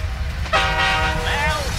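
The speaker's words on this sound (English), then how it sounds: "We know it's just actual train!" A train passes close by and sounds its horn in two loud blasts over a constant low rumble of rolling wheels.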